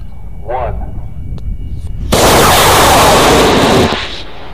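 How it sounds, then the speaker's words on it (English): A model rocket lifting off on a Cesaroni I-297 motor in the desert, a sudden loud roaring rush that holds steady for about two seconds, then fades quickly, after a faint voice and quiet wind. "now let's head out to the desert and launch this rocket."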